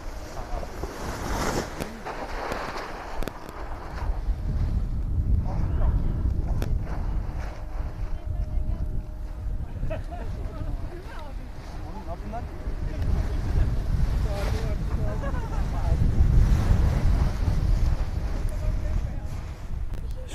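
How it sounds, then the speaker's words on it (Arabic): Strong wind blows across an open hillside at a paragliding site in Sakarya, loud low buffeting and microphone rumble that keeps surging in gusts, with voices talking underneath. "شوف الرياح شقد قوية"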